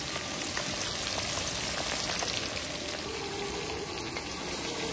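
Fish pieces fry in hot oil, a loud, dense and continuous sizzle with crackling pops close up and no talking.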